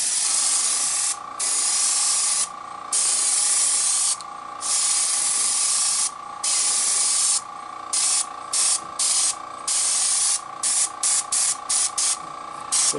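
Aerosol spray paint hisses in repeated bursts while coating a fishing lure, long steady sprays at first, then shorter rapid spurts toward the end, close and loud with no talking.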